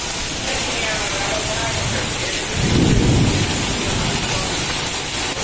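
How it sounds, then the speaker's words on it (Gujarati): Heavy rain pours down during a thunderstorm in Gandhidham, a dense, steady hiss broken midway by a deep rumble of thunder, with no voices over it. "ગાંધીધામ મેં અતિ ભારે વરસાદ છે."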